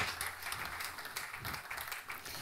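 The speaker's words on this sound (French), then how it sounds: "On peut l'applaudir" Audience applause at a French cybersecurity conference for small and mid-sized businesses, a steady wash of many hands clapping at moderate distance, fairly even and unbroken throughout with no talk over it.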